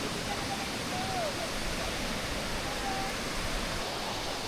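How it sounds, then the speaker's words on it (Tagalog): Steady broadband rush of a swollen, muddy riverside river flowing, continuous and fairly close, with no break in the wash of sound. "Ito yung setup namin ngayon guys, tabing ilog."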